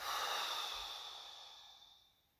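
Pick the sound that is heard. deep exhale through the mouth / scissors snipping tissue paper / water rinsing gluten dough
deep exhale through the mouth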